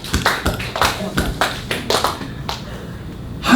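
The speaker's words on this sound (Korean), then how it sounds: "박수." Congregation clapping together in a church during a sermon on Psalm 78:72: a run of sharp, fairly near, evenly spaced claps that fades and stops near the end.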